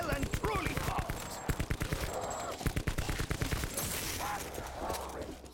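Gunfire from a weapon in Black Ops 4 Zombies, quick rhythmic shots in short bursts mixed with game noise and a talking voice.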